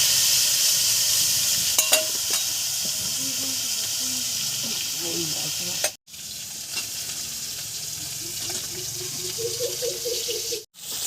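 Whole koi fish fry lightly in oil with a steady, close hiss and crackle, over faint background voices and tones, and two brief drop-outs of sound.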